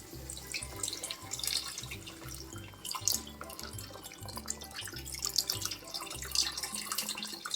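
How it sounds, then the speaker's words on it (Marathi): Water poured into a pan where onion and coconut have been sautéed, heard as a close, steady trickle and splash with small drips, fairly quiet and without talk. "आता याच्यामध्ये ना मी पाणी टाकते"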